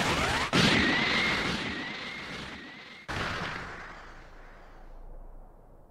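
A Special Beam Cannon attack in the video game Dragon Ball Sparking Zero lands as two sharp crashing blasts, each followed by a bright sustained energy roar that slowly fades, loud and without talk.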